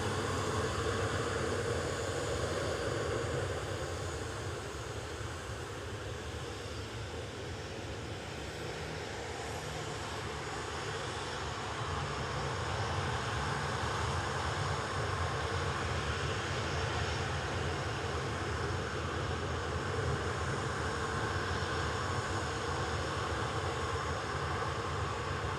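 Airbus A220 airliner engines at Manchester Airport, a loud, steady broadband roar sustained throughout without pause or spoken voices.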